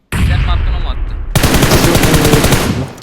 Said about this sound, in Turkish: Bir şey ben sıktım. Direkt yere sıktım.